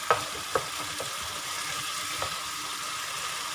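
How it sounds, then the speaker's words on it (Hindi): Minced meat (keema) fries in a pan with a steady, close sizzle, broken by a few sharp clinks of stirring near the start. "तकरीबन 5 मिनट और इसको मैं फ्राई करूँगी ताकि ये बहुत अच्छी तरह से फ्राई हो जाए"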